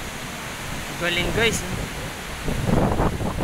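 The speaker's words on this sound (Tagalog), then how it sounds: "Lakas pa ng hangin guys, ang sarap." Strong wind buffeting the microphone on the Mount Maculot trek trail, a broad, rumbling roar that gusts louder near the end, with brief spoken voices over it.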